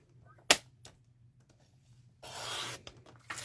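A paper trimmer slicing cardstock at 5 1/4 inches: a sharp click, a few small taps, then a loud, steady rasping cut lasting under a second, close and alone in a quiet room.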